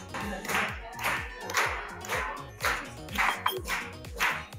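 Diners clap in steady rhythm at the Crystal Palace buffet restaurant in Magic Kingdom, with evenly spaced hand claps over a few seconds against a background of music with bouncing tones, moderately close.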